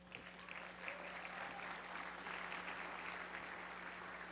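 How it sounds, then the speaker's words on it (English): A conference audience applauds at a virtual-reality expo, a faint, distant, steady wash of clapping over a low electrical hum. "Let's give him a warm round of applause"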